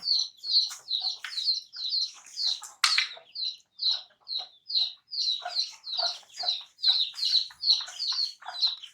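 Hens herded together in a group, giving steady rapid chirpy clucks and calls close by, repeating in short bursts throughout with one louder squawk early on.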